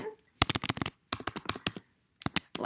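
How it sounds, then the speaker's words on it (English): Computer keyboard keys clatter in quick, close bursts while a command is typed into a terminal, three clusters of crisp clicks separated by short pauses. "So what you need to do is type in nc"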